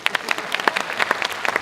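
Audience applause at a spiritual discourse hall, a brief burst of scattered hand claps, fairly close and steady for a moment with no voices over it.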